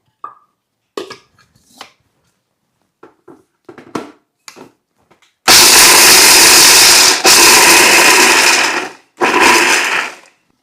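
Mixer grinder coarsely grinding roasted peanuts, starting after a series of short clinks and knocks, then running loudly for about four seconds, briefly cutting out, and restarting in a second steady burst.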